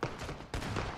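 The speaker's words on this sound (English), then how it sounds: "I hear bullets." Gunfire in the battle royale game PUBG: a brief, muffled volley of shots, fairly faint, with a sharper burst halfway through.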